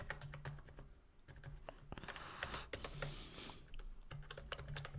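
Someone types login details on a computer keyboard at a point-of-sale system, a quick run of light, close key clicks with short pauses, quiet and with no talking.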